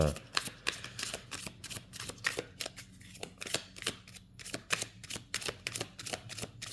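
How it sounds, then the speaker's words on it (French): Oracle cards being shuffled by hand produce a quick run of crisp riffling flicks and papery slaps, close and fairly quiet, repeating in an uneven rhythm. "Donc le jeu se mélange très très bien."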